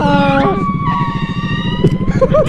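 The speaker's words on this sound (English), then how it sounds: "Oh, fire truck." A fire truck siren wails loudly and steadily as it passes close by, its rising and falling tone riding over a dense low rumble of traffic.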